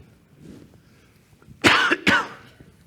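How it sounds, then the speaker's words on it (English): Two sharp coughs close together, loud and near, over a quiet background hum. "Sorry about the cough."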